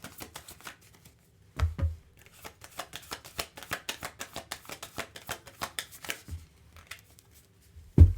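Tarot-style Art of War cards shuffled and drawn: a long run of quick, close riffling flutters with brief pauses, two heavier thumps near the start and a sharp knock at the end.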